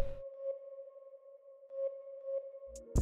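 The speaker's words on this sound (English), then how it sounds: "I added the flute to the sample" An accent flute one-shot sample sits in a dark guitar and flute beat, a steady sustained tone with soft repeated swells and a reverberant tail, quiet and alone.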